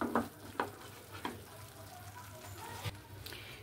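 Roasted coriander-cumin powder and chili powder being stirred into an Afghani chicken kebab curry, a soft sizzle under a few distinct scraping strokes of a spoon against the pan, close and fairly quiet.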